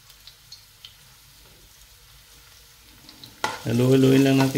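Garlic sizzles in hot oil in a pan as it is stirred. After a quiet opening with faint ticks, the frying bursts out loud and close for the last second.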